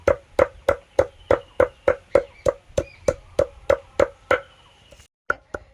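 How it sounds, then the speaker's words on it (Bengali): Durva grass stems being crushed, pounded in about fourteen sharp, steady, evenly spaced close blows, then a pause and two or three final strikes. "অল্প অল্প করে দূর্বা গাছগুলো থেতো করে নিচ্ছি।"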